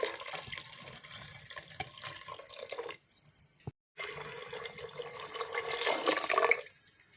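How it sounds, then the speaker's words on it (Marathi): Anarkali rice is washed clean with water in a pot, with splashing, sloshing and trickling water in two bursts separated by a brief silence, close and fairly quiet. "तर आपण हे स्वच्छ धुवून घेऊयात 2 पाण्याने।"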